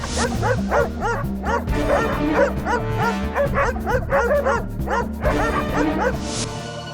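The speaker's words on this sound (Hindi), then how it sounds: "कोई तो कारण है जिसके दबाव में आकर ये सारे कुत्ते हिंसक हो रहे हैं।" Several dogs bark aggressively in fast repeated volleys, loud and close, with yips mixed in and the barking continuing without a break.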